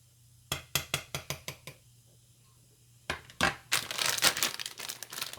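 A plastic pack of mixed vegetables crinkles and crackles in a string of sharp rhythmic bursts, pauses, then rustles again in a denser, louder run of crumpling, close up with no talk.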